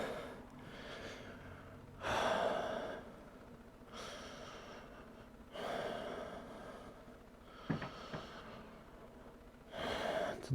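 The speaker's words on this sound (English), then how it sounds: "Breathing in deep." Slow, deep breaths drawn in and released during a yoga session, each long inhale or exhale rising as a breathy rush roughly every three to four seconds, close and alone without talk.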